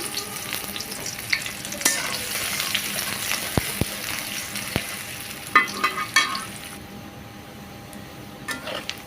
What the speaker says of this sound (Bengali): তেল একটু গরম হয়ে আসলে আমি পেঁয়াজ কেটে রাখছিলাম আর মরিচ দিয়ে দিব তেলে